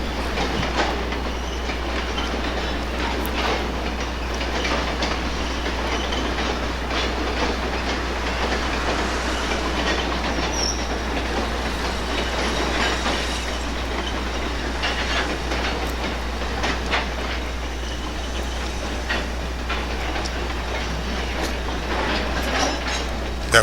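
A long, steady rumble of a passing Conrail coal train crossing a trestle, with continuous rail clatter and hiss, loud and close throughout, no voices.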